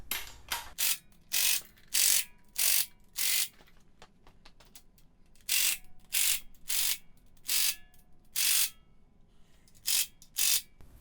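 A ratchet wrench tightens the oil pan bolts on a Chevelle LS turbo build while a Holley oil pan is installed, in repeated sharp clicking bursts of about half a second each, close and loud, separated by short pauses, with no talk.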